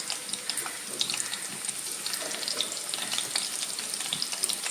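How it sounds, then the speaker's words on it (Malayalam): Bitter gourd pieces fry in hot oil, a steady close hiss and crackle with fine spattering pops running continuously, no voices. "ചൂടാകുമ്പോൾ ഇതിലേക്ക് ഇട്ടിട്ട് ഇതൊന്ന് ഫ്രൈ ചെയ്തെടുക്കാം."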